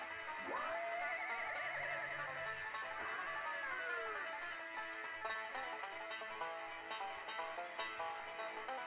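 A horse whinnies in The Curse of Monkey Island, a sharp rising neigh that trembles and slides downward, followed by a shorter trailing call over continuous game music and faint background sounds.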